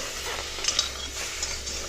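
Salt-marinated chicken pieces cook in a pan without oil, giving a steady, close sizzle with a few light metallic clinks from stirring.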